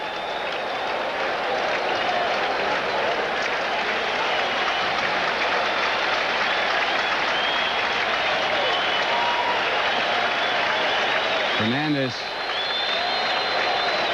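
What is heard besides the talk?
baseball crowd cheering and applauding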